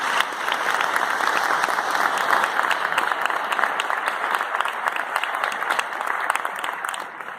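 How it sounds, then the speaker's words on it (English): Steady applause from a ceremony audience at a high school Veterans Day honor wall event, dense continuous clapping from a sizable crowd that holds for several seconds before tapering slightly at the end. "please help me and give them a round of applause"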